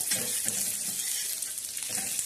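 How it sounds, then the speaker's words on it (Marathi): Green chillies roast in a hot pan for a masala, giving a loud, steady sizzle with scraping stir strokes at intervals and no voices. "आता ह्या तुमचा हिरव्या मिरच्या झालेल्या आहेत हे असं मस्त भाजून घ्यायचा"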